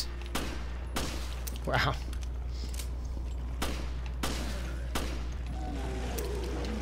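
Gunshots in the video game Resident Evil Revelations: a handful of sharp, evenly spaced blasts ring out over a steady low hum, with a player briefly exclaiming between them.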